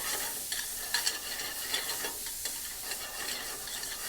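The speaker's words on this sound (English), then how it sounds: "So I put the bacon in a dry pan here because what I'm trying to do is render out all of that grease," Bacon crackles and sizzles steadily in a dry pan as its fat renders out, a dense close hiss with scattered louder pops and no voices.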